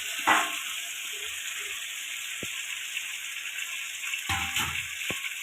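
Fried katla fish heads go into hot masala and sizzle steadily, with a sharp burst as they land near the start and clattering stirring near the end, close and alone without voices.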